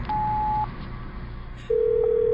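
Telephone keypad tones sound as a number is dialed in an audio drama: a sustained tone, a short quiet gap, then a second louder tone held to the end, heard close.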